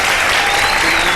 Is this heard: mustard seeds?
no